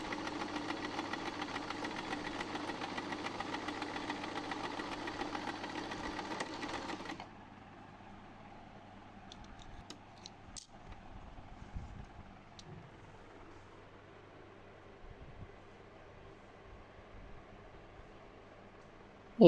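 A Butterfly electronic sewing machine runs a fast, even stitching whir for about seven seconds, then stops, leaving a low hum and a few faint clicks and handling sounds.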